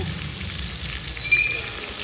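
Curry leaves and green chillies frying in hot oil for an onion-free soya bean fry, giving a soft, steady crackling sizzle that runs evenly throughout at a moderate level.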